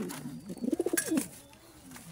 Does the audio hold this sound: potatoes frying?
no